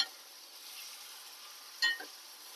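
Garlic cloves frying in a pan, a soft steady sizzle with one brief sharper burst of crackling partway through, fairly quiet and close.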